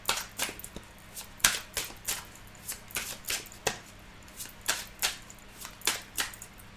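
A deck of oracle cards being shuffled and cut, a steady run of crisp, close slapping riffles that repeat about twice a second on a quiet background.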